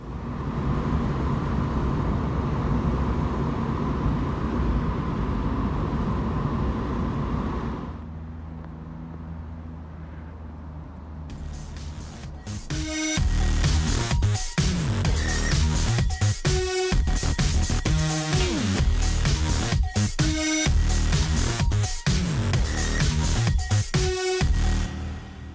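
A car drives with its windows open, starting with a steady engine and road rumble and rushing air. A quieter stretch follows, then loud, busy wind buffeting and clattering noise fill the rest.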